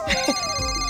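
An electronic phone ringtone plays in a steady, tonal pattern while a voice speaks briefly over it.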